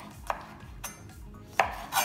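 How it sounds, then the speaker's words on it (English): A knife chops vegetables for salsa roja on a cutting board, a few sharp separate knocks at an uneven pace over a low background hum, with no talking. "So I'm chopping this a little bit here."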